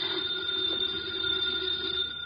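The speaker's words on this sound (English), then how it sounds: "The phone is ringing. Let it ring." A house telephone rings in a drama scene, a steady electronic tone holding continuously over a faint room hum, fairly quiet and without speech.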